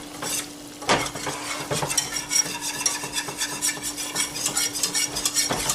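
A whole wheat flour roux is stirred steadily in a pan, the spoon scraping and swishing in continuous strokes with a faint sizzle and occasional clinks of utensil against metal, close and alone with no talk.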